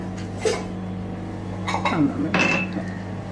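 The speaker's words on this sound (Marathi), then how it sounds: "आता आपण हे गॅसवरती ठेवूया कुकर आणि झाकण लावूया." A pressure cooker is set on a gas stove and its lid closed, producing a few close metallic clinks and knocks over a low steady hum, with someone speaking.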